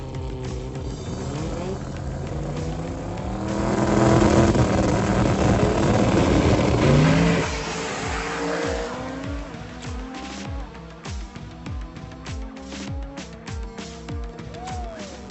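A 93 Caprice wagon race car with an SMX engine screams past on track with rising and falling engine tones and a burst of tire squeal, loud then fading into steady racing engine noise.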